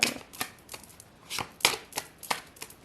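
Tarot cards are shuffled and drawn by hand, a series of crisp riffling and snapping bursts at an uneven rhythm, close and fairly loud with short pauses between.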